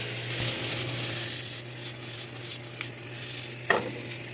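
Mixed vegetables sautéing in a pan for grocery-store jambalaya give off a steady, fairly quiet sizzle, broken by a few soft stirring scrapes and one sharper clack of a utensil near the end.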